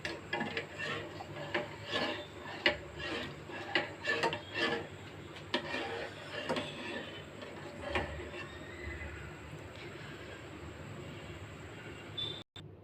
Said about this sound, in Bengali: দুধটা ভালো করে জ্বালাইতে থাকি আর নাড়তে থাকতে হবে,